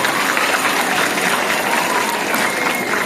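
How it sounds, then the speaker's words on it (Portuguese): An audience claps for a professor introduced on an autism-themed school podcast event, producing a loud, dense, even wash of applause that continues without pause throughout. "Uma salva de palmas para o professor Ronaldo."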